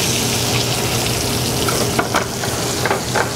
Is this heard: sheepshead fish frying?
yes